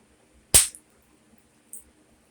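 A hammerstone strikes a dacite biface during flintknapping, giving one sharp crack as the flake comes off, then a short tick and a faint click about a second later in a quiet setting.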